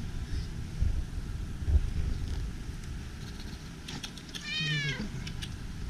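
A cat meows once, a clear rising-falling cry near the end, amid outdoor wind noise on Yakushima island, with no talking during the meow.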